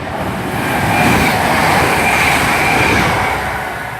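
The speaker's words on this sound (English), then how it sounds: "coming through is a West Midlands Railway service to Hereford from Birmingham New Street" A West Midlands Railway train bound for Hereford from Birmingham New Street rolls past at Barnt Green, a loud, close rumble of wheels and carriages that swells in the middle and eases off slightly toward the end.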